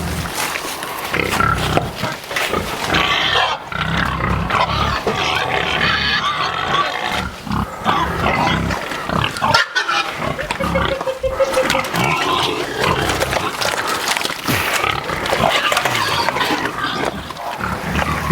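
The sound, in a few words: hogs grunting while being loaded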